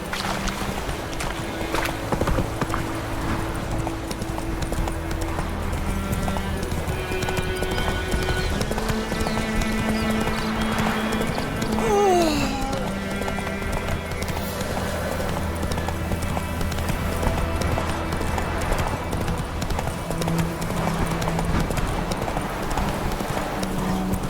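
Roach, Geralt's horse in The Witcher 3: Wild Hunt, trotting with a steady rhythmic clip-clop of hooves close by, set against ambient game music and a brief snort or whinny.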